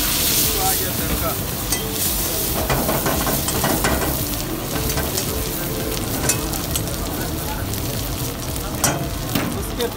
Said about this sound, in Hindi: इसका अदरक लहसुन पेस्ट कर, आ गया तिरका